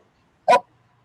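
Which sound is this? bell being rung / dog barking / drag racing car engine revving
dog barking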